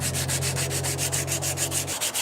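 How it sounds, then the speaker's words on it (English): Wood is sanded by hand in quick, steady back-and-forth strokes, a close, raspy rub repeating in an even rhythm under a low background hum, with no voices. "I want to sand it right up to that line that I scored in there"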